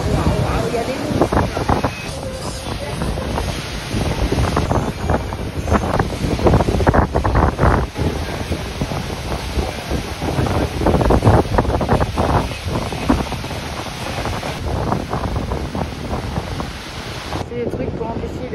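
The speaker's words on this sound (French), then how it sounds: "Les vagues sont énormes." Huge ocean waves roll in during a cyclone storm, heard as heavy surging surf under loud, gusting wind buffeting the microphone throughout.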